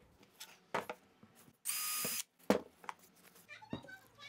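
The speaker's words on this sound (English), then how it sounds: "and drill a hole." A power drill drilling a hole in scrap wood whines steadily for about half a second amid scattered clicks and handling noises, close by.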